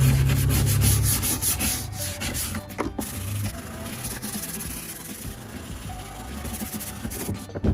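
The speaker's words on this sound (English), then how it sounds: "you use a little stiff brush, doesn't scratch the surface" A small stiff brush scrubs softened gunk off a BMW E36 M3 fuel tank with close, continuous rasping strokes that pause briefly now and then.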